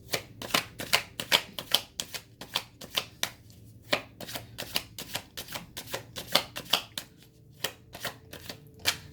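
Tarot cards being shuffled by hand at close range, a quick rhythmic series of crisp riffling flicks and taps repeating steadily, with no talking.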